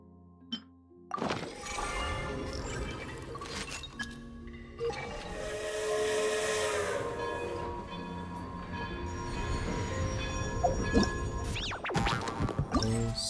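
Train arriving in the Genshin Impact video game, with a mechanical rumble and hiss that builds and holds steady, plus a few clunks and thunks, fairly loud and with no one talking.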